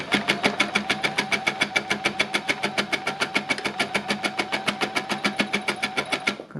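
Sewing machine stitching through thicker fabric, a fast, steady run of evenly spaced mechanical clacks repeating about six times a second, loud and close, with no voices.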